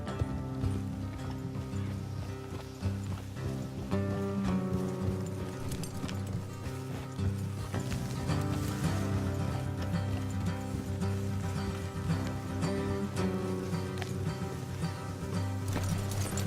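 Steady clip-clop of horse hooves at a walking pace in the video game Red Dead Redemption 2, continuous and fairly loud, layered over a rumbling mechanical background with no talking.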